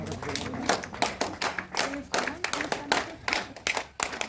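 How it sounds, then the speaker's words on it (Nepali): Audience applause at a graduation ceremony, a run of repeated sharp claps from a nearby crowd, steady and moderately loud, with voices talking faintly underneath. "ताली यस्तो जाओस् न"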